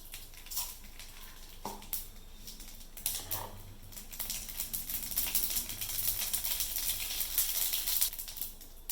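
Mustard seeds hit hot oil for a mixed vegetable kurma and begin spluttering, with a few scattered pops early on building into a dense, close crackling sizzle toward the end, with no one talking.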